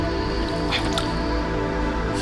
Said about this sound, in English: This here is natural spring water, and it's been flowing for thousands of years.